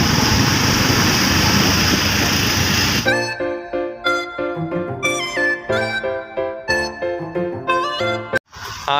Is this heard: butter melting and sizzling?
no